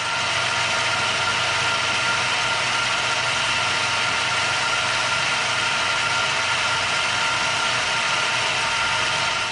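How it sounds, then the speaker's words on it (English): A single-phase 220 volt, 1.5 horsepower lathe motor runs at its highest speed under a heavy cut, giving off a loud, steady, unbroken hum with a slight strain, alone and up close. "on this highest speed with 60 plus thousandths cut of this material, you can hear it struggling just a little bit"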